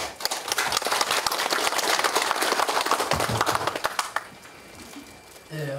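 Warm applause fills a conference hall as a speaker is welcomed to the podium, many hands clapping densely for about four seconds before tapering off, followed by quieter room sound and a brief voice.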